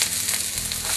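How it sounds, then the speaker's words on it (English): Chopped onions sizzle loudly in hot oil in a frying pan, a dense, close crackling hiss that carries on steadily for a moment without any voices. "add about a 1/4 cup of our onions into our pan. And you want it to have a nice sizzling"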